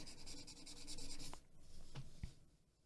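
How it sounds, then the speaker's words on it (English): A charcoal pencil shading paper with even pressure while drawing a head, making a faint, close, continuous scratchy rubbing that eases off midway, followed by a few light taps and short strokes. "Applying the same pressure throughout with my charcoal pencil."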